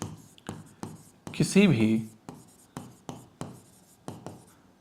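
Handwriting with a pen or marker during a math lesson produces a regular series of sharp scratchy strokes close by, with a short burst of someone speaking in between.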